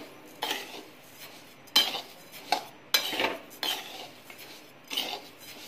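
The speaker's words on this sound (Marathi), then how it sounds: "याचा थोडासा पांढरा रंग येईल तोपर्यंत हे तांदूळ भाजायचे आहे।" Rice dry-roasted in a hot kadai over a low gas flame for chakli bhajani, stirred with a utensil; close, rhythmic metal scraping strokes come roughly once a second, with no talking.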